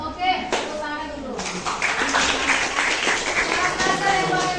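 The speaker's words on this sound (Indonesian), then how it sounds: "Oke, tepuk tangan dulu." Students in a biology classroom clap together for a few seconds, a steady patter of hands that starts abruptly, with voices talking over it.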